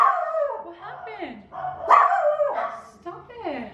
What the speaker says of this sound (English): What are we barking at, guys?